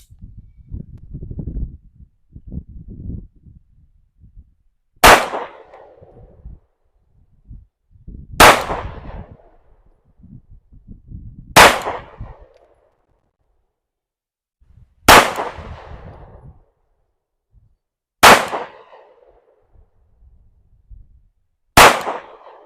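A PSA Dagger pistol, a Glock-style handgun, fires AAC ammunition: six loud, sharp single shots spaced roughly three seconds apart, with softer handling and shuffling noises in the gaps between them.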